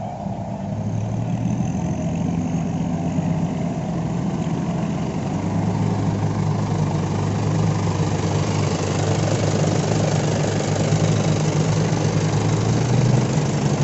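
A four-cylinder turbo common rail diesel engine runs steadily, with a loud, close, continuous rumble and a constant low throb at a level idle, with no voices over it.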